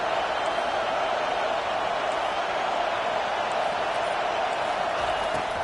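A home crowd roars in a packed stadium at a Texas vs Ole Miss college football game as the defense faces third down, producing a dense, steady wash of cheering throughout that stays loud without clear peaks.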